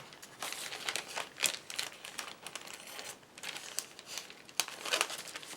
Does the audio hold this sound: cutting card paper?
yes